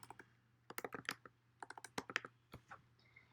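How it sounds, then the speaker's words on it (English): Computer keyboard typing and mouse clicks while editing chart axis titles in a spreadsheet, a close, quiet run of irregular clacks in short bursts with pauses between them, no talk. "double clicking and changing it to temperature"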